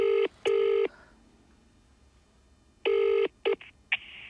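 Telephone dialing tones sound as a few short, loud beeps in two quick pairs separated by a pause, then a brief tone at the end, heard alone in a quiet room.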